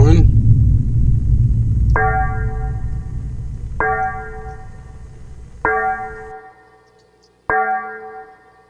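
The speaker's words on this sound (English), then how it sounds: "Never fails when I turn this thing on. That bell's going to ring." A bell chiming as a device is switched on, four evenly spaced ringing strikes with long metallic tails, following a louder stretch of rumbling background noise at the start.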